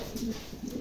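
A pair of blue barless pigeons coos in soft, low rounded calls, two brief swells close by in a quiet setting.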